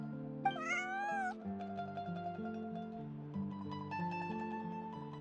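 A cat in a video game gives a clear, close meow, then soft game music plays on with gentle tonal notes and no speech.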